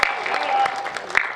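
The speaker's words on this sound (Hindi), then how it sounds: "बजा दो तालियां" Brief burst of audience applause at a Hindi comedy poetry gathering, steady clapping from a crowd with a few sharper claps standing out, over a faint background voice.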